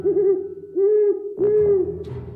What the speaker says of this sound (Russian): о чем ухают совы